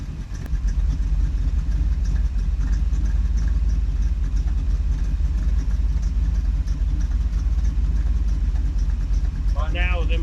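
A 1976 Ford Ranchero engine idles with its mechanical fan spinning, a steady low rumble joined by a rushing stream of air, and a brief voice is heard near the end.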